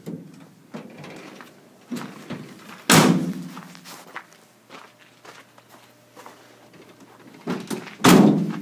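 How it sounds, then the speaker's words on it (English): Rear doors of a van fitted with a hitch-mounted lift slam shut with two loud, close thuds a few seconds apart, amid smaller knocks, footsteps and handling noises. "close the doors."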